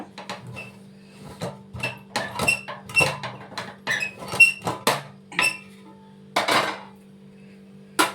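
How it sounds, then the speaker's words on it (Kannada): A pressure cooker lid comes off and the cooked mushroom Ambur biryani is stirred, producing a busy run of close metallic clinks, scrapes and squeaks of utensil against pot over a low hum. "ಮುಚ್ಚಳ ತೆಗೆದು ನೋಡೋಣ ಇವಾಗ"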